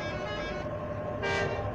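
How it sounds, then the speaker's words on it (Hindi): Vehicle horn in Bus Simulator Indonesia, a different horn sound: a steady tonal honk with rich harmonics running through the clip, swelling louder near the end, heard alone without talk. "ये एकदम अलग हॉर्न है।"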